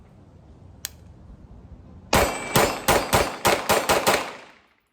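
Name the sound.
Springfield Operator 9mm pistol firing defensive ammo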